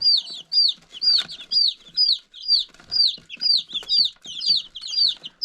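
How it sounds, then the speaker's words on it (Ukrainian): Young chicks, some weak and cold, peeping in repeated shrill, downward-sliding calls, close and loud, in a steady rapid series with no talking. "Ось така ситуація в мене з курчатами."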